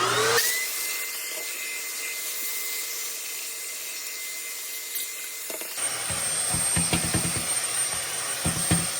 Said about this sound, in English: I'm going to go ahead and vacuum this out real quick